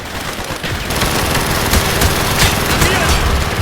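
Sustained gunfire from a Call of Duty Black Ops battle, dense rapid machine-gun bursts rattling loud and close over a rumbling din, with shouted voices mixed in.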